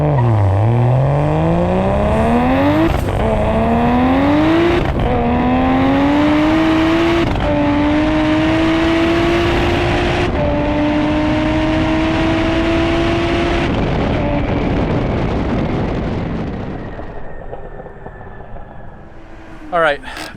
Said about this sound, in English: I'm going to try to do a run, quarter-mile run with draggy